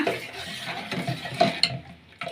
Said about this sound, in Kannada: ಈಗ ರುಚಿಗೆ ತಕ್ಕಷ್ಟು ಉಪ್ಪು ಹಾಕೊಳ್ಳೋಣ ಈಗ ಮಿಕ್ಸ್ ಮಾಡ್ಕೊಳ್ಳೋಣ